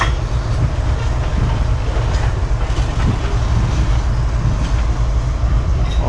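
A coal train rolls through a railway station close by, a loud continuous rumble of wagons with rhythmic wheel clatter over the rails throughout.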